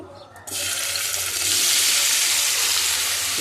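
Tomatoes dropped into hot tempering oil in a pan start a sudden, loud, steady sizzle about half a second in, continuing as a close, dense hiss with no voices.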